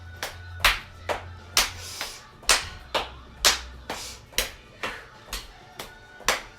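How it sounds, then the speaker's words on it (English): Hands slap against thighs in a steady, even rhythm, about a dozen sharp claps at regular intervals, close by with a low hum underneath. "Clapping the opposite thigh."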